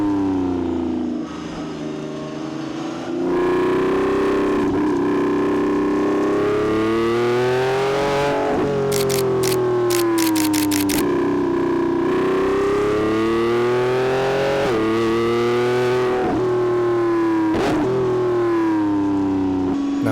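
Lamborghini Revuelto, a 1,001 hp hybrid V12, driven hard on the twisting Tail of the Dragon mountain road, engine note swelling and falling through gear changes, loud and continuous from inside the cabin.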